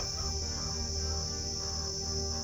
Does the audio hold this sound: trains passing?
no